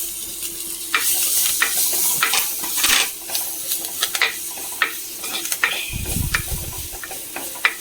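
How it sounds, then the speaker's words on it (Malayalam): Crushed ginger, shallots, green chillies and curry leaves sizzle and crackle in hot oil while a spoon scrapes and stirs the pan, with occasional light clinks. "ഇഞ്ചിയും ഉള്ളിയും ചതച്ചത്, പച്ചമുളക്, വേപ്പില ഇതുകൂടി ഇതിലേക്ക് ഇട്ട് കൊടുക്കും"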